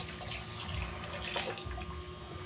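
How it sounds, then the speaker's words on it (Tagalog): Water poured from a tap into a cooking pot, a close, steady splashing stream with a gurgling rise in the middle and no talk. "Lagyan ng tubig."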